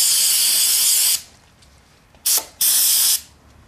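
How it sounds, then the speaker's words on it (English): Brake cleaner sprays onto an engine head during a Toro spark plug thread repair, with a long loud hiss, a short burst and then another sustained blast, all close and with no talk. "I'm going to clean the head with brake cleaner."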